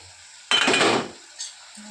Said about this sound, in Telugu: మూత తీర్చొద్దాం